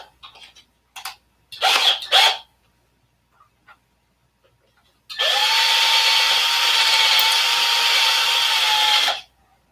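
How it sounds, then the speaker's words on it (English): A power drill augering out a hole in an aircraft engine cowl, a couple of short bursts first, then a long steady run of about four seconds, loud and close. "Let's auger it a little bit."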